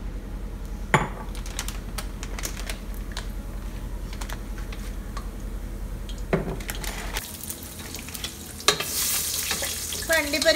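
Cashews frying in hot oil for a Kerala-style beef dum biryani, a continuous crackling sizzle dotted with small pops and clicks, then a louder burst of hissing near the end, no voices.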